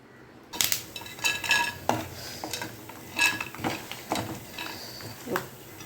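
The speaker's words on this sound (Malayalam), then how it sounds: "നമുക്ക് തേങ്ങ നമ്മൾ അരിഞ്ഞ് വെച്ചിട്ടുണ്ട് ഇതിനെ വറുക്കണം" Metal utensil scraping and stirring chopped coconut as it roasts in a pan, with repeated clinks and scrapes at an uneven pace, close up, no talking.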